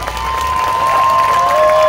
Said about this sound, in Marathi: अरे अजून टाळ्या वाजवा